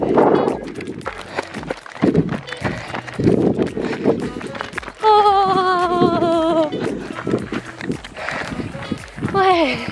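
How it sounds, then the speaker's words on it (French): A horse moves into a more cadenced trot, with rhythmic hoofbeats running through most of the stretch, a voice speaking over them and a couple of high harmonic calls rising in the middle and near the end. "on va commencer à partir sur un trot beaucoup plus cadencé"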